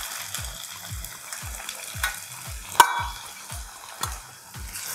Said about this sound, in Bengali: এভাবেই সবগুলো ভেজে নেব